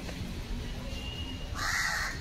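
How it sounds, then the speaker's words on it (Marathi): A single crow caws once near the end, a short harsh call over faint background noise. "आलाय कावळा खायला, त्याला ठेवले ते घे बाबा खाऊन"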